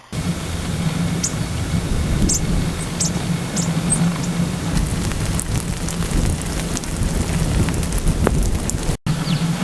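Steady heavy rain patters on surfaces during a May thunderstorm in Utah, with rumbles of thunder rolling underneath and sharp drop impacts scattered through the constant wash of noise, no voices present.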